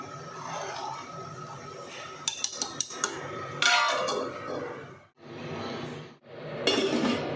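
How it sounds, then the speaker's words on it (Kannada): A few sharp metallic clinks and clanks of a pressure cooker lid being closed, amid ongoing kitchen clatter and hiss while cooking mushroom biryani. "ಆಮೇಲೆ ಕುಕ್ಕರ್ ಮುಚ್ಚಳ ಮುಚ್ತಾ ಇದ್ದೀನಿ"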